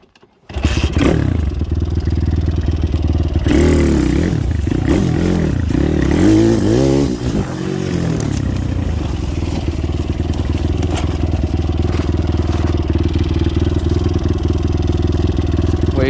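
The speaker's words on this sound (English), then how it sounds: "Oh, this bike." A motorcycle engine runs loud and close throughout, with a brief wavering rise and fall in revs near the start before settling into a steady rumble.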